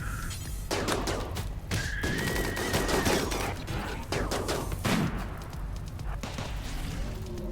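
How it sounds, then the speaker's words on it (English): Dense rapid gunfire from a mini turret crackles almost without pause in the video game RimWorld, with sharp repeated shots stacked over a busy battle din and a whining tone appearing briefly. "I like how the mini turret did the killing blow."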